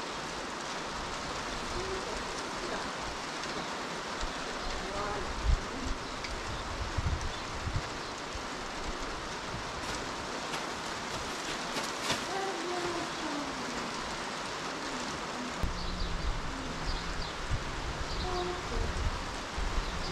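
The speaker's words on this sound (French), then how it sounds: "je laisse le son de la vidéo pour que vous puissiez bien vous rendre compte le bruit de la pluie sur le toit" Rain falling on a roof, a steady soft patter filling the background throughout, with scattered louder knocks and faint rustling, no talk over it.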